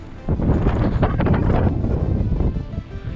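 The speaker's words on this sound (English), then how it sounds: "it's kind of windy out here, really windy." Strong wind buffets the microphone in heavy, continuous rumbling gusts, with no voices heard.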